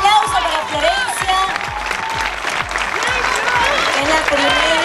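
Loud, sustained applause from the audience of a televised fashion programme, steady clapping filling the whole stretch with some crowd noise mixed in.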